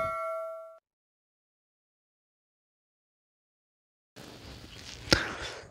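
A single bright metallic ding rings out like a notification bell effect, then dies away into silence before a sharp clang at the end.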